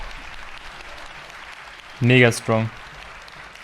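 Audience applause at the PC Gaming Show fills the background as a steady, even wash, while a voice briefly speaks over it near the end.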